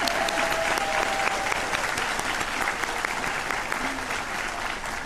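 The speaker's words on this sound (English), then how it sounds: "wave, and clap for them" A room full of people claps steadily, a dense, continuous round of applause at fairly close range with no pause.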